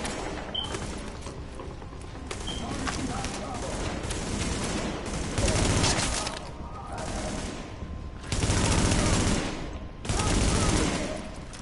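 Bursts of gunfire from a shotgun fight in the video game Tom Clancy's The Division, with heavy blasts around the middle and near the end over continuous battle noise, and a voice talking at times.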